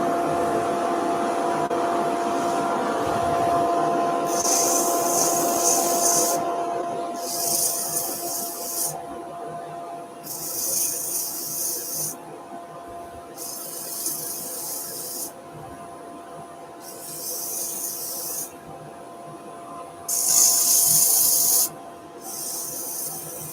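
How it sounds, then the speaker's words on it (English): Sanding a wooden and pencil-crayon epoxy resin vase with 180-grit paper while dust extraction runs, a steady drone underneath with repeated bursts of harsh hissing abrasion, about seven strokes spaced a couple of seconds apart. "a bit more dust extraction. Just whilst I do this last little bit of sanding"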